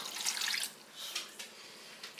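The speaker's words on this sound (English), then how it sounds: "To that, I'm going to add about 1 cup of water." Water pours briefly into a pot with a soft splashy rush, followed by a few smaller trickles and drips, close and fairly quiet.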